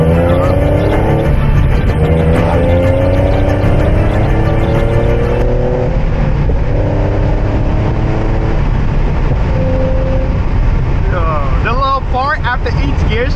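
A tuned Infiniti G37S coupe with a six-speed manual pulls hard through its gears, the engine note climbing in rising sweeps, dropping at each shift and climbing again, loud inside the cabin under heavy wind buffeting.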